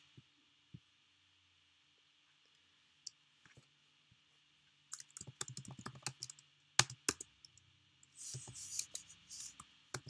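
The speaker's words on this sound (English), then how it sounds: "So type it, press enter, type again" Someone types on a computer keyboard, with sparse faint clicks at first and then a denser run of quick keystrokes and key presses in a quiet room.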